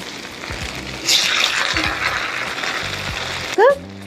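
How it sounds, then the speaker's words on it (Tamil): Paneer noodles frying in a pan over a low flame, a steady close sizzle with brief louder bursts as they are turned, a short sharp scrape near the end, and a voice speaking softly underneath. "நம்ம இன்னொரு சைடும் வறுத்துக்கலாம்."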